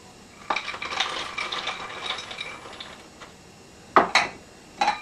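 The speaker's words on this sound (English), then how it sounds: "So now that we have this, we're going to dump in the cashews." Cashews dumped into a small food processor while making raw vegan cashew cheese, giving a scattered clatter of nuts on plastic, then a few sharp knocks and rattles near the end.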